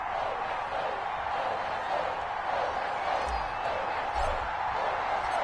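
Sold-out stadium crowd in the Madden NFL video game, Patriots facing the Cardinals: a steady, dense roar of massed fans fills the whole stretch, with a couple of brief low thumps partway through.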